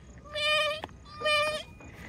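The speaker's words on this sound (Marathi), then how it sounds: "बकरीला बोलवायचं." A pregnant goat bleats twice, loud and close, each drawn-out cry lasting about half a second with a short pause between them.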